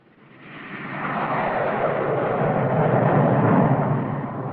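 A 1950 Air Force aircraft taking off, its engine roar building from quiet to a loud, steady rush that swells and holds near and full, with no voices.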